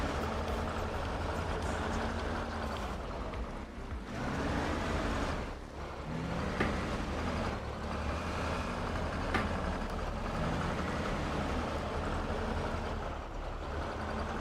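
A truck engine idles in an off-road driving video game, a steady low rumble with slight dips and swells in level, running alone without talk.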